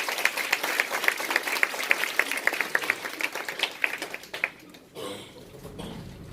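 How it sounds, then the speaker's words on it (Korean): An audience claps in unison, a rhythmic series of distinct, evenly spaced claps that loosens and fades after about four seconds, then gives way to quieter room sound. "우리 두 분께 감사의 박수 한번 쳐주세요."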